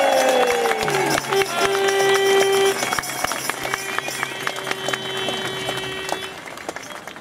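Crowd applauding at an outdoor rally to save Sheffield's trees, a loud continuous wash of clapping with some cheering, fading slightly toward the end, with music or tones sounding beneath.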